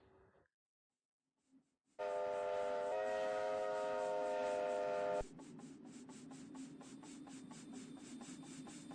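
A Kb class steam locomotive whistle sounds a long, loud, steady blast after a brief near-silence, then cuts to rhythmic chuffing exhaust beats with hissing steam as the engine works.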